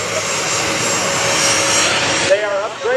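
A-10 Warthog jet aircraft at an air show, its engine a steady loud broadband roar that holds for most of the moment, then drops away with a brief whine as people's voices come through underneath.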